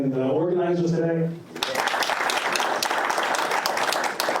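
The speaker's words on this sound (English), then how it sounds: "Can we just give a nice big round of applause to our panelists and the organizers today?" An audience at an Africa angel investment fair applauds panelists and organizers, with a burst of steady clapping from many hands that follows a speaker's voice and carries on for a few seconds.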